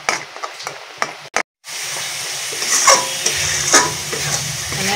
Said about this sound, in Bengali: ঘন ঘন নাড়তে হবে, নাহলে নিচে বসে যাবে